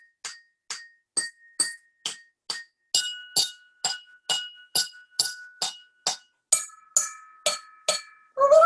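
A homemade percussion instrument at home is tapped with a hollow straw, giving a steady series of about eighteen short, bright clinking hits with glassy ringing tones, close and alone.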